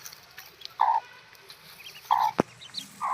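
A hen that has just hatched chicks, ducklings among them, gives several soft, close clucking calls at irregular intervals, with a brief sharp knock partway through.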